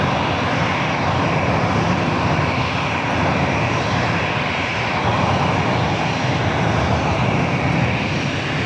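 Heavy jet airliner engines roar loud and steady at LAX, a continuous broadband rumble that holds constant throughout without fading, no voices over it.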